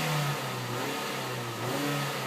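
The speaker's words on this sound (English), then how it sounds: "Engine makes a nice raspy exhaust note." A 2012 Ford Escape with a manual gearbox and Mazda engine revs up, its raspy exhaust note rising and holding as a steady, fairly loud drone throughout.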